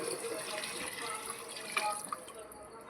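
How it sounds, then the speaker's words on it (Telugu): Water pours steadily into a cooking pot of chicken for basmati pulao, a soft continuous splash and trickle heard up close in a kitchen. "వాటర్ యాడ్ చేసుకోవాలి ఫ్రెండ్స్."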